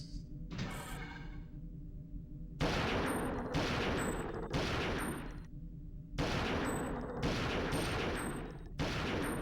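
Video game gunfire as a player shoots an enemy ship's tail in an attack ship tutorial. Loud bursts of rapid shots come in several blocks separated by short gaps, with ringing high tones over them and no voices.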